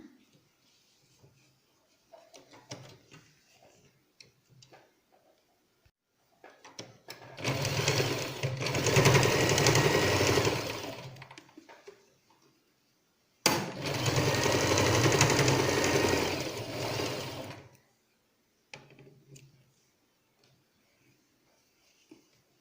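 A sewing machine stitches a folded fabric face mask in two sustained runs of steady, loud whirring, separated by a short pause, with quieter handling noises before and after.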